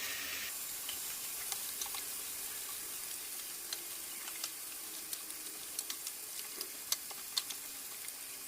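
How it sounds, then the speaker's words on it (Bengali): Potatoes frying in a pan of oil during home cooking, a steady soft sizzle with scattered sharp pops and crackles growing more frequent toward the end, close and fairly quiet with no talking. "আলুগুলো যতক্ষণ ভাজা হতে থাকে আমি মাংসটা মেখে নেব।"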